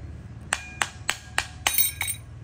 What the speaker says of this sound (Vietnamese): các bạn gõ búa cao su vô